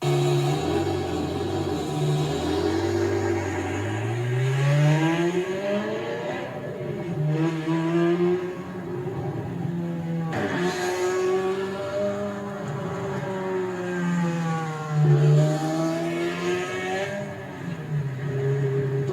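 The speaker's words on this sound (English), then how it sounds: "this car has an aftermarket exhaust, Valvetronic Valvetronic headers and exhaust" A manual-swapped Ferrari F430 with aftermarket Valvetronic headers and exhaust revs repeatedly, the engine note sweeping up and falling back in several loud, close rises and drops, throaty and unaccompanied by talk.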